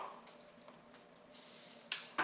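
Aerosol cooking spray hisses onto a chocolate fudge layer for a kefir chocolate cake, a steady spray burst followed by two short sharp spritzes, close and fairly quiet.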